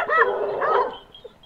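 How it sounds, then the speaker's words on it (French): A pack of hunting dogs with hunters outdoors barks in two loud, close yelping bursts, followed by a fainter whimper as the sound fades. "Un attroupement de chiens, de chasseurs."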